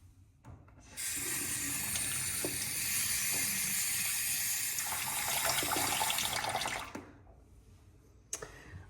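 A faucet runs steadily into a sink for about six seconds as a face is rinsed after a wet shave, a close, loud hiss that cuts off, then a small clink.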